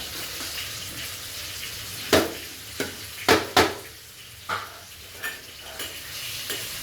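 Banana fritters frying in hot oil, a steady soft sizzle broken by several sharp crackling pops and stirring clinks, close by with no talk.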